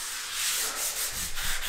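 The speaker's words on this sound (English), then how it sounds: "right now we're just sanding it back" Sandpaper rubbing putty on timber door frames and architraves during a bedroom and ensuite renovation, a steady close scratchy back-and-forth hiss with quicker strokes toward the end, no talk.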